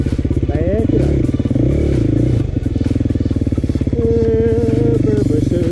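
A quad bike engine revving loud and close while backing up, its throbbing note rising and falling in pitch with throttle blips and a brief dip before climbing again.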